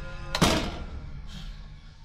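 A door swings shut with one solid thud, followed by a brief rustle and low background noise, with no talking.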